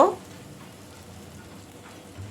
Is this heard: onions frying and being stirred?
yes